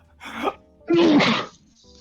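A single sharp sneeze, preceded by a short inhaled gasp, loud and close, followed by silence.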